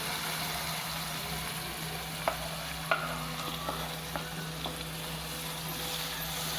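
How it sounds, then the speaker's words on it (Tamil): Ground masala paste sautéing in a pan for fish curry, a quiet continuous sizzle over a steady low hum, punctuated by a handful of soft clacks from a spatula stirring the paste. "அரைச்சி வச்ச மசாலா சேர்த்து கொஞ்சம் நல்லா இதில் வதக்கலாம்"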